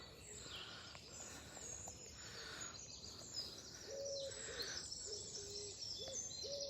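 An owl-like bird hoots in a park, soft repeated hoots coming and going among other bird calls and chirps against a faint outdoor background.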